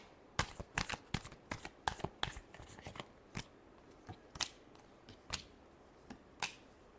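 A deck of tarot cards being shuffled in crisp, quick riffles and snaps, bursts of papery flicks coming in irregular clusters, close and fairly quiet with no talking.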